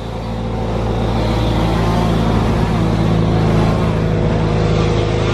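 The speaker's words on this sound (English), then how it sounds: "They're grinding tree stumps and stuff next door." Steady, loud mechanical drone of a stump grinder chewing through tree stumps next door, a continuous engine-like roar with no break, heard from a short distance.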